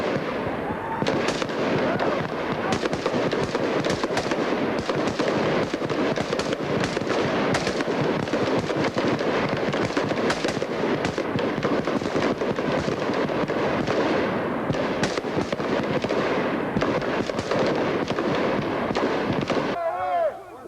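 Continuous rifle fire on a 25-meter army marksmanship range during basic training, dense overlapping cracks from many weapons at middle distance running nonstop, with voices talking underneath.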